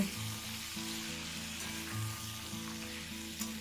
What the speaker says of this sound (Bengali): আলু প্রায় ভাজা হয়ে এসছে এবার সজনে ডাটাগুলো দিয়ে দেব